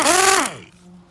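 A brief, loud burst from a Parkside air impact wrench on rusted wheel nuts, a harsh mechanical whir that winds down quickly into a fading rattle.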